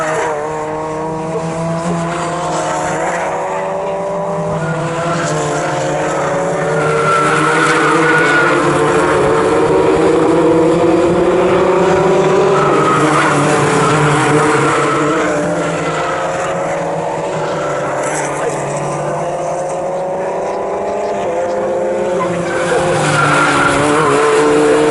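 Fun Cup race cars lapping Snetterton circuit, several engines droning loudly together with rising and falling pitch as the pack passes, tyres squealing through a corner, continuous and close.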